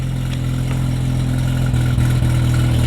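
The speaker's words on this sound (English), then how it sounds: "proper rotary, mate. Listen to her fire up." A JDM rotary-engine car idles steadily nearby, a dense low drone with a slight lumpy pulse and a couple of brief dips near the end, with no talk over it.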